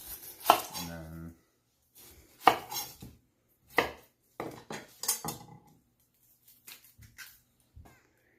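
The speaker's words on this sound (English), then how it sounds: "I'm going to start by small dicing my onion and my celery." Knife small-dicing onion and celery on a cutting board, heard as sharp, close chopping taps in scattered bursts and short runs with pauses between, no talking.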